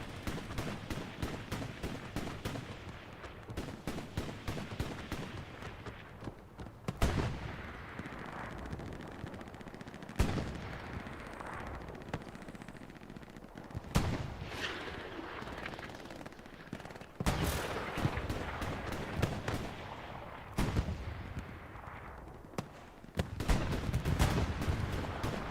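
AT rockets striking tanks during a battle at Kursk in Hell Let Loose: rapid machine-gun chatter runs throughout, punctuated by repeated heavy booming impacts every few seconds, all loud and dense with no talking.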